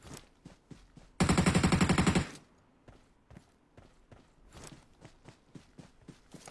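Rapid burst of about a dozen gunshots from an M24 sniper rifle in the PUBG video game, loud and dense for roughly a second, followed by scattered quieter footstep-like thumps and clicks.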